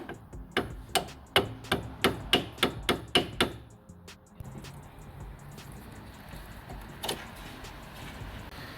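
A Fiat 500 front brake caliper pin is driven out with a hammer: about ten sharp, evenly spaced metallic blows in quick succession, close and loud, followed by quieter shuffling and one last isolated knock.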